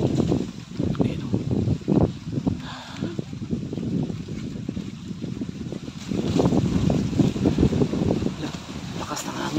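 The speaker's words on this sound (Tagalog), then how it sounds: "Lakas ng hangin." Strong gusty wind blows outdoors near a river and buffets the microphone with loud low rumbling that runs continuously throughout.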